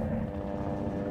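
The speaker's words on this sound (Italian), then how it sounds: "C'è il rumore di un elicottero." Helicopter rotor drone in a Resident Evil game, a steady low rumbling throb with faint pulsing that holds at moderate level throughout, no voices.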